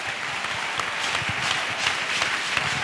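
A church congregation applauds and cheers for Jesus Christ, a steady, even wash of many hands clapping that is sustained and fairly loud throughout.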